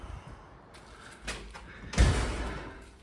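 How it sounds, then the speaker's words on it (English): A storage room door is opened, with a faint click and creak followed by a louder thump and rattle near the end as it swings open, no talking. "You open this door"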